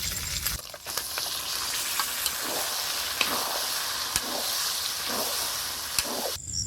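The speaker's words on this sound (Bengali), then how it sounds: "এবার কচু শাকগুলো দিয়ে দেব।" Taro leaves fry with hilsa fish heads in a pan, a steady crackling sizzle punctuated by regular stirring scrapes and sharp utensil clinks, close and without talk.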